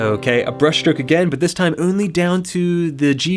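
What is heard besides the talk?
None of the usual background noises is heard.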